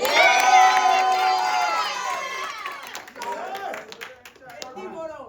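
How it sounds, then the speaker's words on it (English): A crowd at a marketing group meeting cheers and claps loudly at first, the noise thinning into scattered shouts and whoops toward the end. "So clap it up for Nicholas, 202 in a day."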